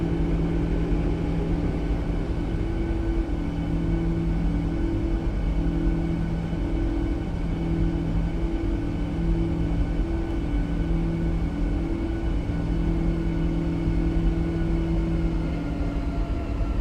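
Steady droning rumble of a PMDG 777-200ER airliner's engines climbing out after takeoff from San Francisco in Microsoft Flight Simulator 2020, with faint pulsing tones layered over a continuous low roar and no voices.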